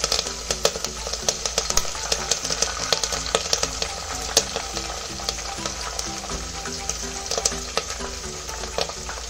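Curry leaves frying in hot oil in a pan for masala chitranna, a loud steady sizzle with crackling pops and occasional stirring scrapes throughout.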